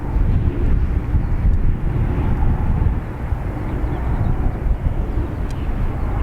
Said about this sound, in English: So the 330 you're looking at is EI105 heading to JFK